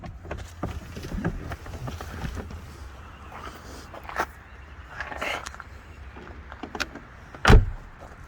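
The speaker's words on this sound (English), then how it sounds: "Can you hear the quality in that door then as well?" Rear door of a 2005 Mercedes E280 Avantgarde V6 saloon opening and then shutting with a single solid, close thud near the end, over low background rumble.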